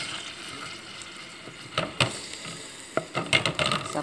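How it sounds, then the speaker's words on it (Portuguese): Soft sizzling of food cooking in a pan, broken by a few clattering scrapes and knocks of a utensil stirring, close up. "Agora vou deixar cozinhar."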